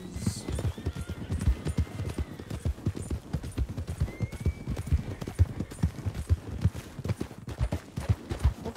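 Hooves clop rapidly and rhythmically as horses trot along in Red Dead Redemption, with a faint whinny in the background.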